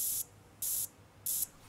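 Scent eliminator spray hisses in a hunting video game, three short bright bursts separated by brief quiet gaps.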